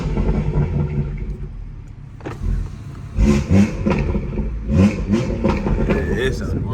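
A BMW 340i fitted with a loud aftermarket downpipe revs in short bursts, its rough engine roar rising and falling several times while people talk over it.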